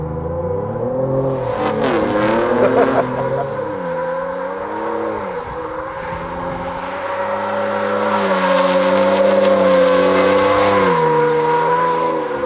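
Ford Ranger Raptor ute doing donuts on a skid pan: a loud, close engine revs and holds at high pitch, swells repeatedly with the throttle, and tyre squeal rides over it.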